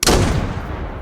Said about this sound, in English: Shooting the ground by accident is a common problem with angles like that.